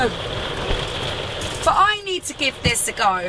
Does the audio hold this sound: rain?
yes